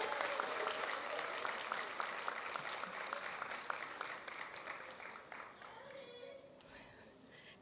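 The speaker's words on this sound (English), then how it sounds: "Can we give them a round of applause?" Graduates' families receive a round of applause at a university commencement ceremony, broad clapping from a large audience that gradually thins and fades toward the end, with scattered voices near the close.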